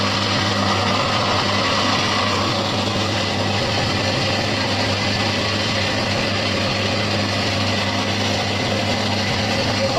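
A peanut peeling and splitting machine runs steadily as shelled peanuts are fed in, giving a loud, continuous motor hum with a dense mechanical whir that holds unbroken throughout, with no voices.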